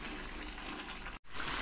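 Water pours steadily into a pot of cooking mutton chops, a close continuous gushing splash that briefly cuts out near the end before resuming.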